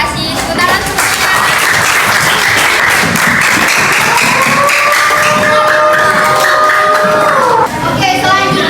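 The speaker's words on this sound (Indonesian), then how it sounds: "Tepuk tangan semuanya." Students in a classroom applaud, a loud sustained patter of clapping hands close by, joined by children's voices and chatter rising through it.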